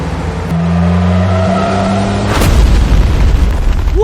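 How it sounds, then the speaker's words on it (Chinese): A film-style explosion blasts a mountainside over a snowy road, following a steady engine hum; one sudden loud boom cuts in near the middle, then rumbles and crackles as debris falls. "刚刚山上有爆炸声"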